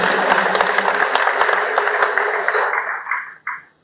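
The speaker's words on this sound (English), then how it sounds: "I want us to give ourselves a round of applause for this." Loud, dense applause from a meeting audience fills the room with steady clapping, individual sharp claps standing out, then thinning and fading over the final second with a few last claps.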